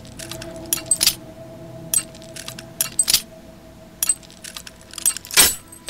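Lock picking in the video game Oblivion: a series of short metallic clicks and jingles in irregular clusters over a quiet background hum, with one louder scraping rattle near the end.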